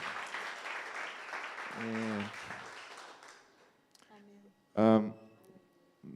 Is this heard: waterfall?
no